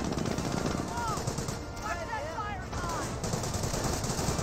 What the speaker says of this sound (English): Receiving lots of fire there